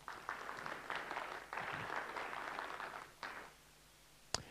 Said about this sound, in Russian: Встречайте аплодисментами.